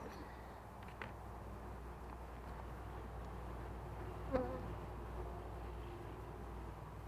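Honey bees buzzing around an opened backyard beehive during a July inspection, a faint continuous hum with occasional closer passes, low and steady throughout.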